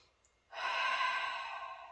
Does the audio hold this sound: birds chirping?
no